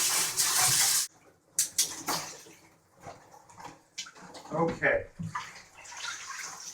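A latex spandex trisuit is rinsed in water, a loud rush of running water that cuts off, then scattered splashes and sloshing close by, with brief talk in between.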